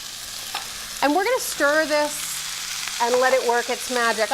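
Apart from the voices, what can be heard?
stirring celery, carrots and mushrooms in a pan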